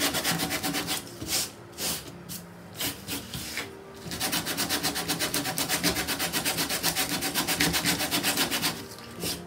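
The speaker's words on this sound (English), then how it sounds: "you're going to have a really hard time sanding that paint off." Sandpaper scrubbing paint off a portrait canvas, close and loud, in quick rhythmic back-and-forth strokes with a short pause early on, then a fast steady run of rasping passes.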